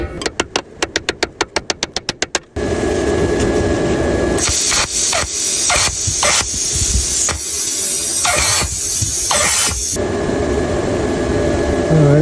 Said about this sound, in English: Just grind that one again, grind as much sharp as possible.